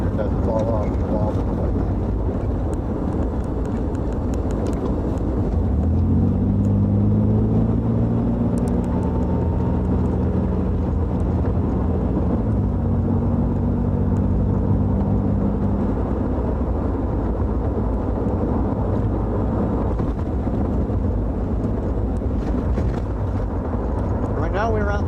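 A 1985 Chevrolet Camaro cruises through open countryside, its steady engine drone mixed with wind rush, the note climbing and holding for a stretch midway, with people talking over the ride.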